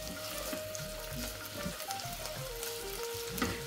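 Onions and cashews sautéing in a pan for paneer biryani, a steady close sizzle and fry with occasional stirring scrapes running throughout.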